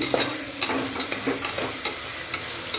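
Slit green chillies and onions fry in a pan for chicken haleem, giving a steady sizzle broken by a few short stirring scrapes, all close and with no voices.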